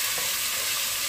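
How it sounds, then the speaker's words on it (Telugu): Potatoes fry in oil with a constant, dense sizzle that stays even and moderately loud throughout, with no voices. "గోల్డెన్ బ్రౌన్ వచ్చిన దాకా వేయించుకుందాం."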